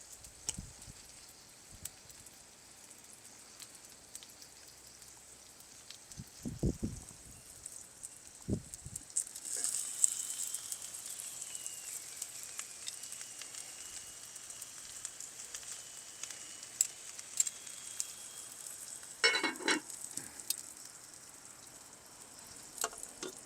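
A steak sizzles on a grill grate set over open-fire embers, a soft, steady hiss with scattered faint crackles and pops, fairly quiet throughout.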